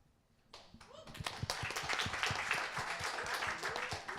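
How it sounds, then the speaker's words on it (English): Audience clapping breaks out after a response at a women in hip hop panel, a quiet start giving way to a dense, sustained spread of claps with some voices mixed in. "Y'all gonna clap after every response?"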